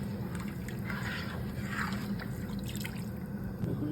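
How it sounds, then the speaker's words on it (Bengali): Boiled mutton and chicken stock pours into a pot of soaked rice with a continuous soft splashing and trickling, close but faint. The cooking is for a Kuwaiti-style mandi meal. "এখন এখানে মাংস সিদ্ধ পানি ও মুরগি সিদ্ধ পানি দিয়ে দিলাম।"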